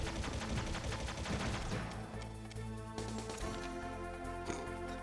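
Dense, rapid gunfire from the video game Metal Gear Solid, sustained automatic bursts filling the clip with sharp repeated cracks and heavy booms.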